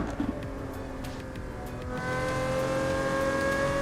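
Car engine in the PC racing game Assetto Corsa, a revving motor that climbs in pitch, with a brief tire-squeal-like scrape early on, then a steady higher-pitched engine drone.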